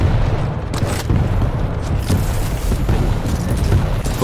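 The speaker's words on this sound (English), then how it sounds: "Rocket launcher, guys." Rocket launcher explosions in the Quake Champions team deathmatch video game, heavy low booms rumbling almost continuously with a few sharper bursts, loud and busy with overlapping action sounds.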